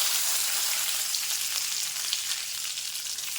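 Chana dal, urad dal, dried red chilli and curry leaves sputtering in hot oil in a pan, a dense, even hiss of frying that holds steady and close for a few seconds with no voices.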